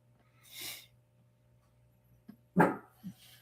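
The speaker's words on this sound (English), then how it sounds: "What are you barking at, Moosey?" In a quiet room, a dog gives one sharp bark and then a smaller yip, after a soft breathy huff.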